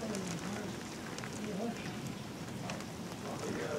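Hail rattles down in a hailstorm with wind picking up. A continuous, fairly faint hiss of pellets carries on throughout, under scattered voices.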